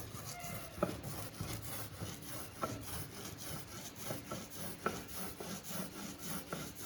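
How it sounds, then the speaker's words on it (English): A paint roller loaded with paint works over a wooden bee box, making soft, close rubbing and sticky rolling strokes in an uneven rhythm, with occasional light taps, quiet overall. "Going into paint and keep loading your roller up."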